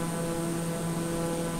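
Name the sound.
TBM 930 airplane in Microsoft Flight Simulator video game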